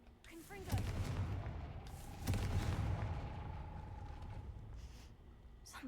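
Confringo spell explosions in the Hogwarts Legacy video game: two sharp booming blasts a second and a half apart, each trailing into a rumbling decay over a steady low hum.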